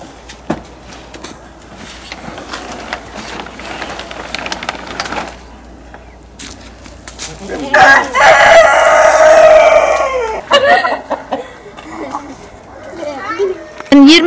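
Farmyard chickens clucking, with a rooster crowing loudly and near from about eight to ten seconds, amid children's voices and general outdoor bustle.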